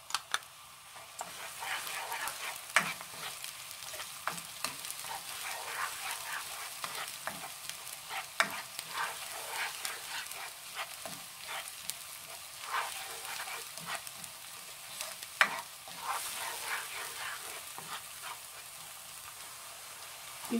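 Onions and grated garlic frying in a pan for shrimp curry give a steady, soft sizzle punctuated by scattered scrapes and taps of a stirring utensil, with no talking.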